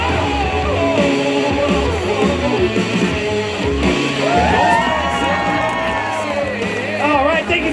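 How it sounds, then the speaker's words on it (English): A crowd at a freak show with death-defying demonstrations erupts in loud cheering, whoops and yells, with shouts rising and falling over a continuous roar and scattered bangs, sustained throughout. "Give him another round of applause as he makes his way off stage"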